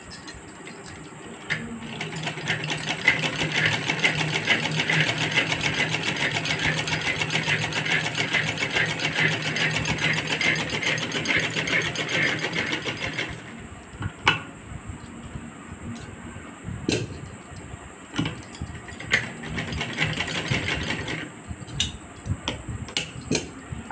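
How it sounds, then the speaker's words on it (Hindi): A sewing machine stitching a pouch made from a handkerchief, running in a steady fast whir for over ten seconds, then stopping and restarting in shorter bursts, close and clear with no talking. "तो चलिए पहले ये सिलाई हम डालते हैं।"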